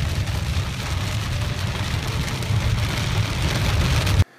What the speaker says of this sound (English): heavy rains bid me welcome